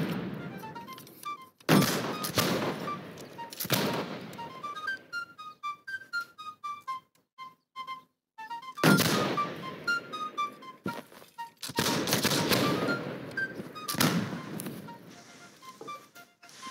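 Cannon fire on an army battlefield in the Holdfast: Nation At War game: several heavy, booming blasts spaced a few seconds apart, with whistling tones ringing between them.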